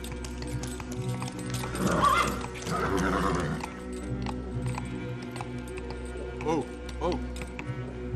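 A nervous horse whinnies and its hooves clip-clop at an evening lodging, the whinny rising clearly around the middle with more hoof steps and a short snort later, set against a steady low background hum.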